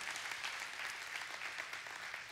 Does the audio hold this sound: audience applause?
yes